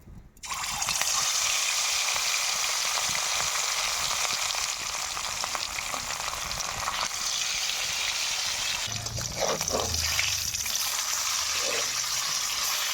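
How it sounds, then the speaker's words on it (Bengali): Rohu fish pieces frying in hot oil, a loud steady sizzle close up that runs throughout, with some brief clattering near the end. "এবার আমি মাছগুলো তেলের মধ্যে দিয়ে দেব।"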